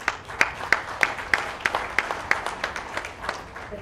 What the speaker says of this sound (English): Clapping is not very enthusiastic.